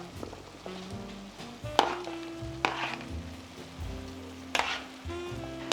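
Ground beef browning in a pot alongside potatoes and mushrooms, with a soft steady sizzle broken by several sharp scraping stirs of a utensil, close and fairly quiet, with no talk.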